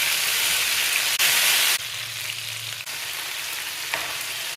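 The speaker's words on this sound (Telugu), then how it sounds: "హీట్ అయిన ఆయిల్లో లెగ్ పీస్లన్నీ వేసుకోవాలి." Chicken leg pieces deep frying in a pan of hot oil give a steady, loud sizzle that rises and dips in level a few times but never stops.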